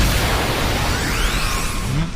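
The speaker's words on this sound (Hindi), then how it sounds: "आखिर ये धमाका कैसा?" Explosion in a video game: a loud, sustained roaring burst of broadband rumble and hiss with swooping debris-like whistles, lasting about two seconds and heard alone without speech.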